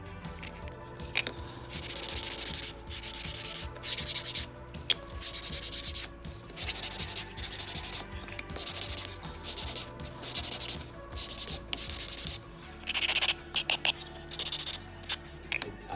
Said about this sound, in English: Start with 100 grit in your sanding block.